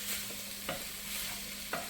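Onions frying in a home kitchen pan, a steady close sizzle with a couple of sharp utensil scrapes or clicks as they are stirred, no voices.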